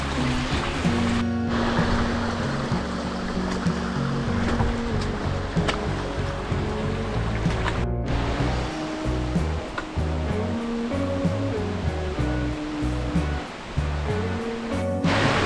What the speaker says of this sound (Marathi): उजवीकडे ते 2 धबधबे आहेत